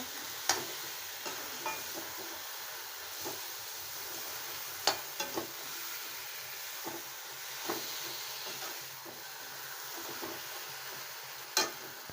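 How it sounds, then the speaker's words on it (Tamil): Drumsticks sautéed in oil in a pan with masala for a drumstick curry, a faint, steady sizzle broken by sharp spatula scrapes and taps against the pan at irregular intervals, close but quiet. "நல்லா எண்ணெயில் இப்படி இதில் காய் கூட சேர்த்து வணக்கி விட்டுக்கோங்க"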